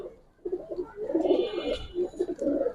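Giribaz highflyer pigeons cooing inside a loft, with soft, repeated low throaty coos in a steady close rhythm and no talking.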